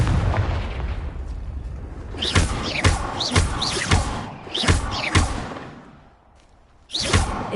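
Confringo fire blast spells exploding in the game Hogwarts Legacy, several booming whooshing bursts in quick succession, loud and close over a roaring background, with a final blast after a brief lull.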